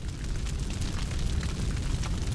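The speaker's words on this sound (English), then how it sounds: "A massive fiery blast knocked him from his feet. A deafening roar set his head throbbing." A minivan explodes in the video game 428 Shibuya Scramble, a loud sustained rumbling blast with heavy low-end roar and crackling debris noise filling the whole moment without pause.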